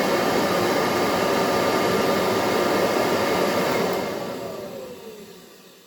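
A Kirby Heritage II vacuum cleaner fitted with a carpet polisher runs with a loud, steady rushing whoosh, then winds down gradually over the last couple of seconds.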